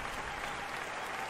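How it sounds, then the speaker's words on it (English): Applause from a live audience at a comedy show, a dense, steady wash of many hands clapping together throughout, fairly loud and close, with no voices over it. "Thank you for the round of applause"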